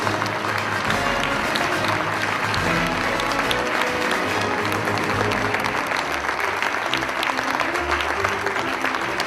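An audience at a leadership event breaks into dense, sustained applause, a loud continuous wash of many hands clapping that fills the room for the whole stretch.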